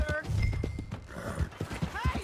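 Horse in the Red Dead Redemption 2 video game, a loud close whinny over clopping hooves, with game characters talking at the same time.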